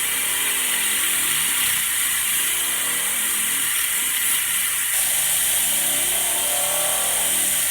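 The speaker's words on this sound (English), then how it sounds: "all you need is one of these, which is just an air blower" An air blower hisses steadily and loudly against the side of a car polishing pad, blasting dust from it in one continuous broadband rush with a slight shift in tone partway through.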